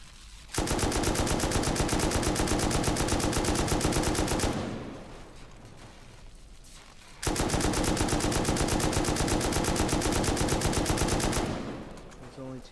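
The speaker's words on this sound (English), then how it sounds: "There's only two shotgun traps, I hope." Automated shotgun traps firing during a base raid in the video game Rust: two long, loud runs of fast repeated blasts lasting about four seconds each, separated by a quieter pause.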